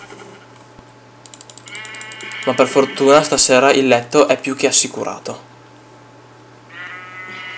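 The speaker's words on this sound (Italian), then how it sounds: "Pecore dappertutto." Blocky sheep in Minecraft bleat in short wavering cries, a couple of them around someone talking in Italian over the game.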